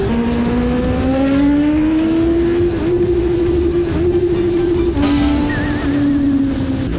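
A Kawasaki ZX-10R motorcycle accelerates hard with a loud, close engine whine that climbs steadily in pitch. It drops briefly at a gear change, then keeps pulling.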